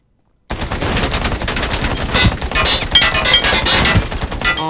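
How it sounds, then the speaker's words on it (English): Video game gunfire aimed at the window of a van: a loud, close burst of rapid automatic shots, dense and continuous after a brief silence. "I can't shoot through the fucking window of this van"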